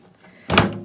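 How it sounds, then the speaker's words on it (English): A steel office file drawer, wide enough for index cards, gives one sharp metallic thunk after a quiet start, close and brief, with no talking. "It's just a steel file drawer"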